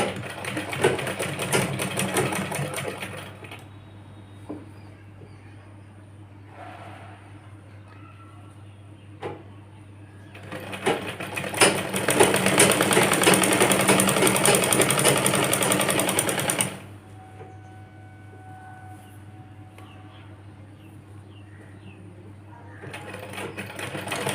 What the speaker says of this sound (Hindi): तो इस तरह से यहाँ पे 2-3 सिलाई लगा लेंगे।